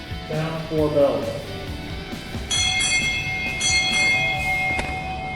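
Ship's bell struck for four bells at a Navy change of command ceremony at Naval Hospital Lemoore, ringing out as a few clear metallic strikes with long sustained ringing over murmuring room tone, after a short bosun's call-like whistle.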